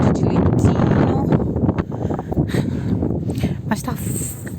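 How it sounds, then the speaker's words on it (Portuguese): Cold wind gusts hard against the microphone outdoors in a winter town, a loud continuous roar of buffeting with rumbling bursts and no voices. "mas tá fazendo vento, frio."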